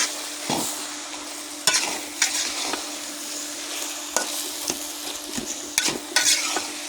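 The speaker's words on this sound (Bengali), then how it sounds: "আবার আমি ভালো করে নেড়ে দিলাম।" Cabbage frying in a pan is stirred with a utensil, making repeated sharp scraping knocks at uneven intervals over a continuous close sizzle.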